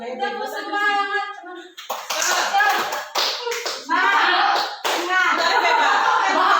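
A group performing the tepuk semangat chant-and-clap routine as an ice-breaker: chanting voices alternate with bursts of loud, quick hand claps in a repeating pattern, close by.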